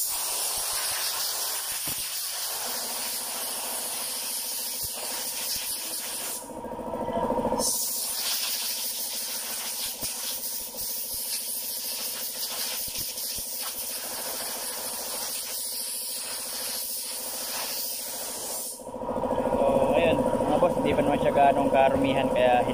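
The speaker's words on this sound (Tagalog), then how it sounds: "So gamitin natin ng compressor." Compressed air hisses steadily as a Toyota Innova's air filter is blown clean, the broadband blast running in long loud bursts with a brief pause and rising louder near the end.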